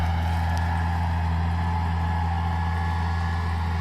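A tractor pulls a seed drill, direct-sowing sunflower into a field after alfalfa while steering on autopilot. Its engine gives a steady, close, unbroken drone throughout, with no voices.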